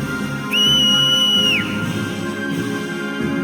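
A single sharp, high whistle in the Final Fantasy X game, sustained for about a second with a gliding drop at the end, loud over a low musical background.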